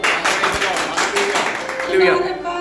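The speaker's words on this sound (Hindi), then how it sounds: "प्रभु के लिए तालियां।" Applause and cheering from a church congregation after a healing testimony, a dense steady wash of clapping and voices lasting throughout, with a speaker talking over it.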